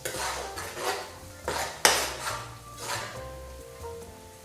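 Garlic sizzles in a hot pan as dinner cooking begins, with a steady frying hiss broken by repeated clinks and scrapes of a utensil against the pan, close and without talk.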